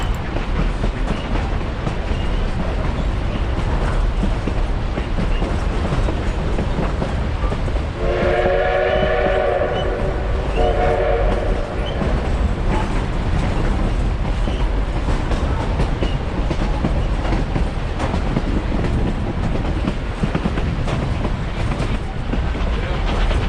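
A coal-fired steam locomotive on the Durango & Silverton narrow gauge railroad rumbles steadily along the tracks, with a harmonic whistle sounding briefly partway through over the continuous mechanical noise.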